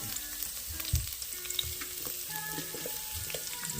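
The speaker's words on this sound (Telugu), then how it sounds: "వేసుకున్న తర్వాత రక్త అలా కలుపుకుంటూ వేయించుకోవాలి" Green chillies and onions with whole spices fry in a pan for bagara rice, a steady soft sizzle with stirring scrapes and small clinks throughout, moderately close and without voices.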